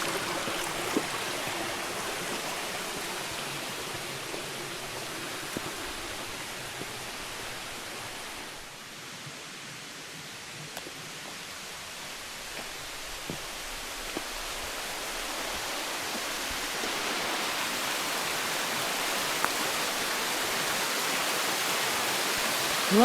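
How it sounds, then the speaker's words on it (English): A small creek along a wooded trail flows with a continuous soft, hissing rush of water, steady and close, dipping briefly in the middle, with no talking. "Another cute little creek."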